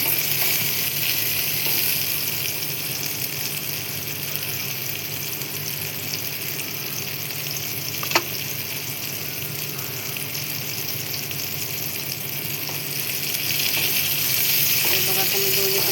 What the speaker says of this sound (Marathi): बघा आता मी दोन्ही पण बाजू असं मस्त भाजून घेणार आहे